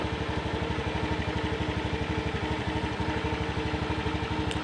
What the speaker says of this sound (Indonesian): Berhasil teman-teman, mesin mau hidup,